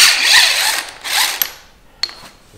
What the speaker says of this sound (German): Und schrauben.